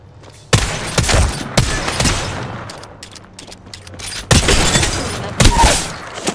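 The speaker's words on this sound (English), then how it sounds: "Shooting an enemy shield" Apex Legends arena gunfire striking an enemy shield: loud bursts of rapid shots, several clustered volleys separated by brief pauses, with sharp impacts and rattling weapon noise between them.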